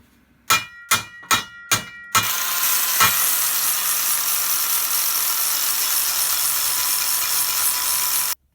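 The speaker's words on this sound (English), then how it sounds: "we'll put a little shape to that and use a flap wheel" A flap wheel on an angle grinder shaping welds on a rusty steel Jeep wheel, starting after several sharp metallic knocks, then a loud continuous high grinding whine that runs steadily to the end.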